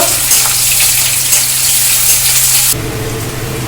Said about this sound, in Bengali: তেলে দিয়ে দিলাম, একটু ভেজে নেব